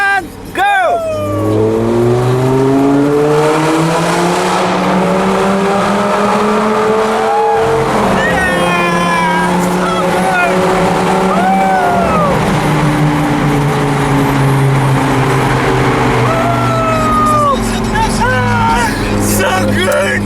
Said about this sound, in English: my friend in Paris with Lamborghini, and we make an acceleration